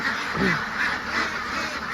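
Laying ducks in their pen give a couple of nasal quacks close by over a steady background hiss, brief and moderately faint.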